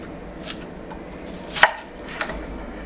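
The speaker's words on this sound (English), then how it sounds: "First I'm going to cut the onion in half" A knife slices an onion in half on a board, with one sharp thud of the blade, close and clear, among a few softer taps in a quiet kitchen.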